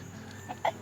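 Backyard chickens give a couple of short, close clucks in quick succession near the end of a brief, otherwise quiet moment in a garden.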